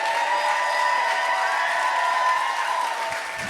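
A crowd at a Philadelphia spoken-word poetry event applauds, with steady dense clapping and a faint layer of cheering blended in, holding at a constant level before easing slightly at the end.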